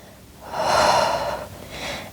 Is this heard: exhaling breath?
yes